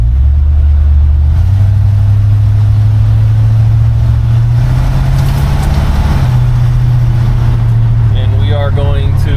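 A 1952 Chevy 3100 pickup truck drives along with a loud, steady low engine drone and road rumble, the pitch shifting slightly midway as it cruises.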